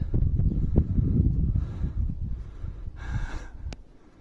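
Horses from a Hutsul herd snort and blow near the microphone, several short breathy bursts in quick succession with rustling between them and a sharper huff near the end.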